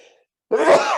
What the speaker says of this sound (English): Somebody made me sneeze.